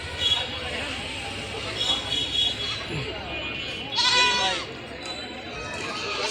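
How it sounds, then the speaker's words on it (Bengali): Several goats bleating amid a busy goat market in Gazipur, calls rising over a steady background of crowd chatter and nearby voices. "গরুর থেকে বেশি ছাগলই উঠে এই হাটের মধ্যে"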